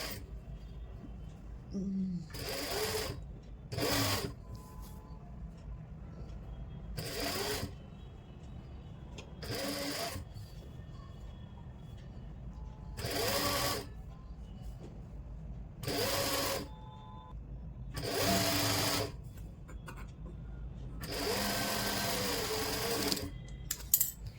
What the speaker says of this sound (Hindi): और फिर इसके ऊपर लगानी है सिलाई